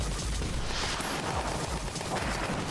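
Mech suit cannon fire in Jenny the Witch, a dense, loud barrage of booming blasts with steady rumbling low end running throughout, no voices over it.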